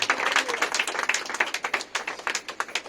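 A church congregation claps loudly in a fast, uneven rhythm of many hands, the sharp claps continuing throughout with faint voices mixed beneath.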